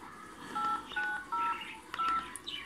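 A Digma Linx A170 mobile phone gives off several short, distinct keypad dialing tones in an uneven sequence, close and fairly quiet, with no voices over them.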